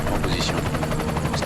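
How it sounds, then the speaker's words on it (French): Enemy helicopter in the game Deus Ex: Mankind Divided, a rapid, steady rotor chop throbbing loudly and continuously, close by, with game speech partly layered over it. "je dois me battre contre un hélico"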